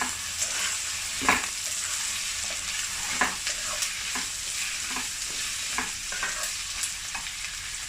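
Spicy chicken pasta preparation in a frying pan, with onions stirred in hot oil: a steady sizzle runs throughout while a spatula scrapes and clicks against the pan at irregular intervals, close and alone.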